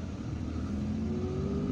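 Car driving through the streets of Algiers, a steady engine hum with road and traffic noise, a mid-level continuous rumble with a slowly rising tone as it accelerates.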